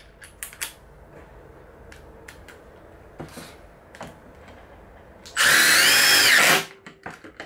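A power drill drives a Multi-One Torx screw into timber in one loud sustained whirring burst, preceded and followed by scattered clicks and light handling noises.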